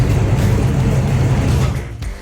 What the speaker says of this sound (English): And those car sounds were sent in by Cameron.